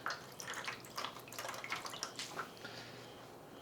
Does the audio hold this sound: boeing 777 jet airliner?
no